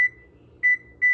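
An oven's electronic control beeps as it is set to 400: a sharp opening beep followed by two short, clear tones in quick succession, alone in a quiet room.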